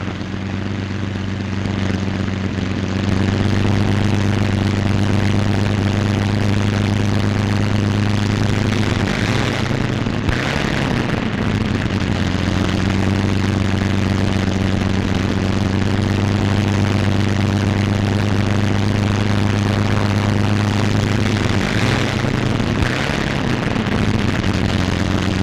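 A P-47 Thunderbolt fighter taxiing across a dispersed airfield, its piston engine holding a loud, steady, low droning hum for the whole stretch with slight dips in pitch, near and unbroken.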